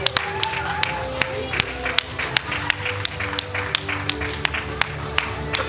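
A small school audience at a Year 6 awards event claps in scattered, uneven bursts, with individual sharp claps standing out close by, over a low murmur of background voices.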